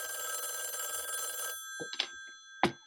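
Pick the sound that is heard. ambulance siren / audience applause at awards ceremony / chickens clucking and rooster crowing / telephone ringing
telephone ringing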